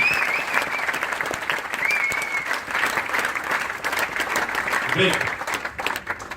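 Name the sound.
audience applause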